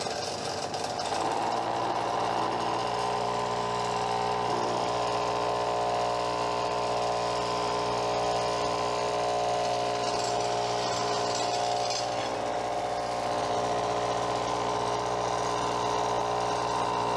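An electric grinder spins up from rest and settles into a steady, loud mechanical whine with a strong tonal hum, running continuously as it starts grinding to flatten the back of a workpiece.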